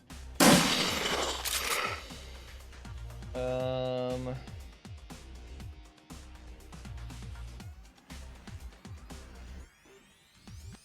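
Bursts of gunfire from a bug gun in a video game crack out in clusters, with a loud rapid volley early on and sharp scattered shots after it. A tonal game sound rises midway.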